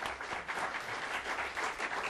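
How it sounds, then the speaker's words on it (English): An audience at a policy talk on energy security in the Strait of Malacca applauds its four speakers, giving dense, steady clapping from many hands that fills the room briefly with no voices on top. "Why don't you please join me in applauding our four speakers today."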